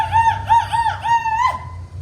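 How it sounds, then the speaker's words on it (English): A Native American man's war whoop, performed as part of a dance group's demonstration at a US pavilion, sounding as a loud, near, high warbling call rising and falling in about five rapid pulses, alone without talk. "And with that, we do war whoop, and the men sound like this."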